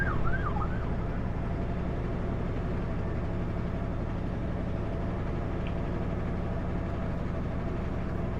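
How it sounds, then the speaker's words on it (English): A single ambulance siren wails briefly at the start on a street in Spokane, Washington, then fades under a steady, loud traffic and engine rumble for the rest. "Yeah, okay, ambulance."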